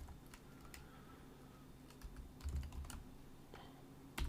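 Computer keyboard typing during C++ programming, a run of quiet irregular keystrokes over low background hum, growing louder with a couple of sharper clacks near the end.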